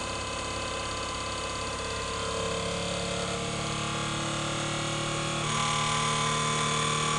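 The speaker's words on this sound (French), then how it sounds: "Là, on a eu un changement de fréquence du moteur." Electric motor running at about 2000 rpm on a test rig, a loud, steady mechanical drone with many stacked tonal hums that shift pitch and grow slightly louder partway through, no voices.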